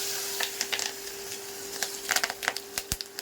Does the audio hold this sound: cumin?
yes